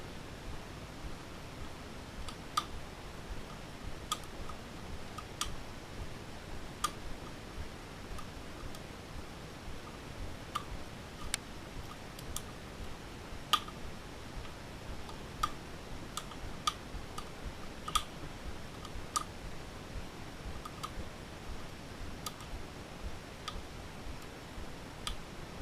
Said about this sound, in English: You can hear a lot of clicking and popping.